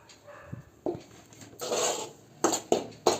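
Edible gum (gond) roasts in ghee in a pan over low heat, stirred with scraping knocks against the metal, a few distinct clacks and a louder rasping stretch in the middle, close and with no talk.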